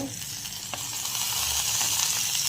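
Onions, potatoes and prawns frying in a pan, a continuous hissing sizzle with occasional stirring scrapes, growing slightly louder toward the end, no talk.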